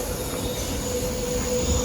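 A train moves at a railway station, giving a brief low rumble of wheels on track with a thin, sustained metallic squeal above it.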